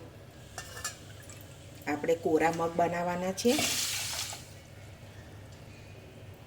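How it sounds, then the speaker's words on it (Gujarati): Water is poured over washed green moong beans, a brief splashing rush that swells in after a voice and fades within about a second. "હવે એમાં આપણે 2 વાટકી પાણી ઉમેરી લઈશું."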